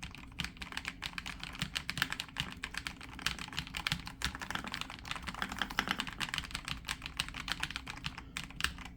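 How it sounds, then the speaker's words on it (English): Rapid, steady keystrokes on a Redragon K708RGB PRO keyboard, soft and close, clattering continuously for several seconds with no voices. "let's test out the actual keyboard, all right, the audio"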